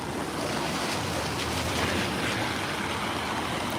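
Heavy rain pours during a walk in Edinburgh, a dense, even roar of water drumming steadily and close, with no voices.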